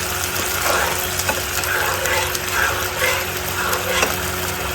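Dragon paneer sauce stirred and cooking in a pan, a steady sizzle with soft scraping of the spoon, continuous and close, with no talking.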